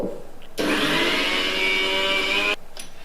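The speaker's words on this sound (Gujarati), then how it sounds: "મિક્સરને ચાલુ બંધ કરતા જઈ અને આપણે સરસ રીતે પીસી" A mixer grinder grinding semolina whirs loudly for about two seconds, a harsh high-pitched grinding burst with abrupt start and stop, quiet before and after.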